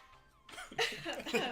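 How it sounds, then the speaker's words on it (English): A quiet voice starts, then a few quick, close coughs follow in a short burst. "Cough, cough, See, cough, cough."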